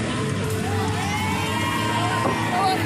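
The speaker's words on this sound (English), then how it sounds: "And you can hear this crowd roaring in support for these two." A crowd roars and cheers loudly and continuously for a pair of competitors at a Breaking Back event, with whoops and shouts, including children's voices, rising throughout.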